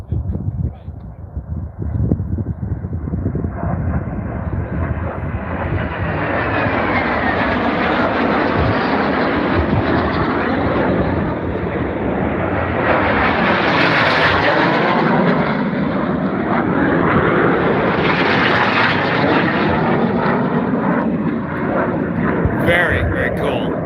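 Jet aircraft in a Reno pylon race, capable of around 500 mph, roar past in a swelling, sustained rush that builds and surges in waves over more than twenty seconds, loud and continuous, with a voice talking over the noise.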